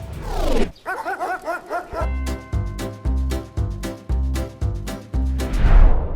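Street dogs bark loudly and close by in a rapid, repeated series of sharp barks and yips that keeps going without a pause.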